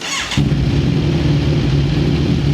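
Kawasaki Z1000 R with a 1000cc inline-four engine and a new GL aftermarket exhaust: the engine catches after a brief moment and then holds a loud, close, deep and steady throaty drone.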